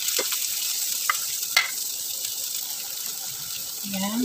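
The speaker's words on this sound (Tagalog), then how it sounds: "Igisa na natin yung bawang, guys. Sibuyas." Garlic and onion sautéing in a pan, a steady bright sizzle of frying throughout with a few faint clinks and light stirring noises.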